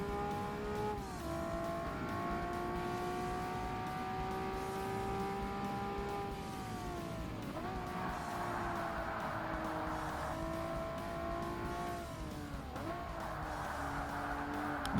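A race car circles laps in Forza Motorsport, its engine whining steadily up and down through gear changes, with lifts off the throttle and faint tire squeal, loud and continuous with no talking.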